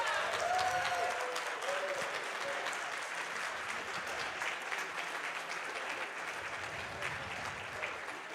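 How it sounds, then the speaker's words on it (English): Audience applause at the AGDQ 2018 speedrun marathon after a Final Fantasy IV run, a dense, steady wash of clapping from a large crowd lasting throughout, with a voice briefly heard at the start. "Let's give it to him one more time with a good round of applause."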